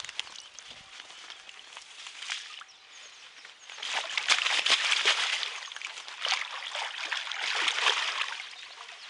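Water sloshing and splashing at a lake edge as a mirror carp is put back into the water after being caught, close and continuous, swelling louder midway with bursts of trickling and splatter.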